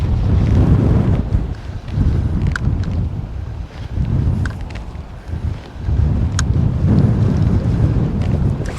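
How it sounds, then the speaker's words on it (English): Strong wind buffets the microphone on a sea cliff on the Scottish Border coast near Eyemouth, a loud continuous roar swelling and easing in gusts, with no talk over it. "It's wild and windy, I can tell you."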